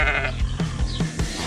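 Sheep bleating loudly and close on a New Zealand lifestyle-block farm at feeding time, several overlapping baa calls blending with constant background farm noise.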